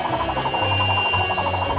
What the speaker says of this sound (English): Now I'm gonna go in and start drilling out all these little details.